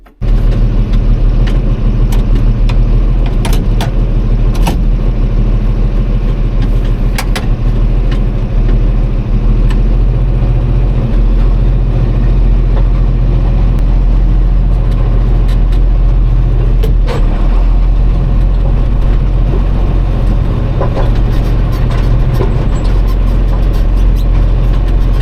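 The 44, a farm vehicle engine, running loud and close with a steady low rumble, with occasional knocks and clatters over the continuous drone and no talking.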